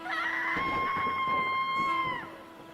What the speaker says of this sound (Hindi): उसी पल लाइट हाउस के अंदर से एक भयानक चीख सुनाई दी।